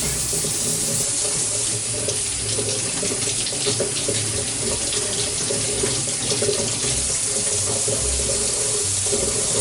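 Mushrooms being washed under a running kitchen tap: a steady, close, fairly loud stream of water splashing into a sink, continuous for the whole stretch with no talking.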